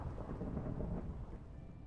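A rumble of thunder from a lightning strike during a Minecraft hardcore game, a deep, rolling roar with a faint rain-like hiss that swells and then slowly fades, heard alone without talk.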